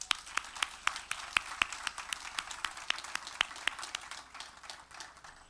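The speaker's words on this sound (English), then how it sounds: "please join me in giving these wonderful contributors a final round of applause" Applause from a seated audience at a community awards dinner honoring contributors, with moderate, irregular clapping spread across the room. It holds steady, sits somewhat distant, and has sharp individual claps standing out.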